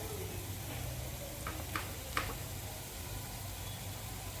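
Turmeric, salt and chilli powder sizzle in hot oil in a pan with a steady, low frying hiss, broken by a few faint taps and stirring scrapes near the middle.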